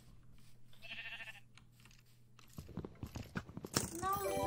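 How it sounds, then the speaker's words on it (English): A Minecraft sheep gives a short bleat, followed by quick crunching and chewing-like game sound effects growing louder toward the end. "Yes, that's a sheep, Maya."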